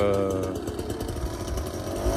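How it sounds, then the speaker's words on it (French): A heavy motorized trimmer harvests tea leaves in a sunny matcha field, its engine droning loud, close and steady throughout. "la tondeuse là elle est pas légère hein, donc c'est très manuel et très difficile"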